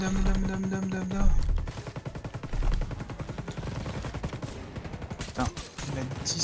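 Machine-gun fire in the video game Ghost Recon Breakpoint: rapid, loud bursts of automatic shots crackling in quick succession, with a sustained tone and other game effects underneath and players talking intermittently.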